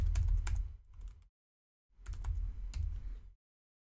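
Typing on a computer keyboard, heard as two short, close runs of soft clicking keystrokes separated by a brief silence, with no speech.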